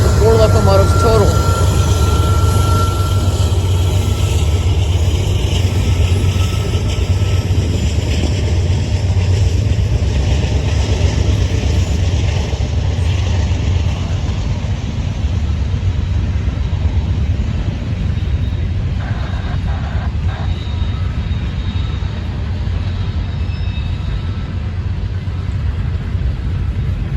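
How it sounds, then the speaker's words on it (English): An empty coal train with four locomotives slowly approaches eastbound, a loud broad rumble of diesel engines that gradually eases, with brief faint tones late on. "Our next train was slowly approaching east. This train would be empty coal train"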